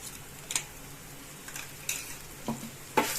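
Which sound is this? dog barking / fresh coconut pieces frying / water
fresh coconut pieces frying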